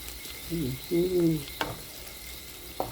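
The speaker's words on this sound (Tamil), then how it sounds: "தக்காளியும் நல்லா அழகாக வதக்கிக்கொண்டு வர்றாரு" Tomatoes and garlic sautéing in oil in a pan for an aubergine sauce, giving a low, soft sizzle broken by a few sharp utensil clicks and brief tonal scrapes.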